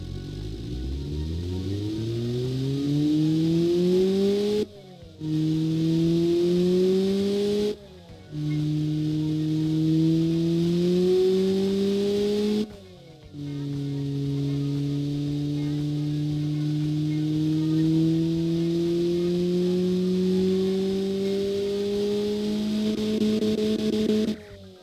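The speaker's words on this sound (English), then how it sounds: "let's rev this engine and let's see how it sounds" A Honda D16V1 engine built up as a tuner engine revs repeatedly, each pull a rising droning whine that climbs and holds before sharp cut-offs, with four bursts, the last one long and sustained, loud and close with no talk.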